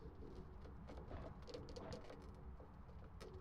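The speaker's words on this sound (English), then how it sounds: "That's just rain." Steady rain patters in the Phasmophobia ambience, a soft even hiss of drops on surfaces with a few faint bird-like coos, quiet and without talk.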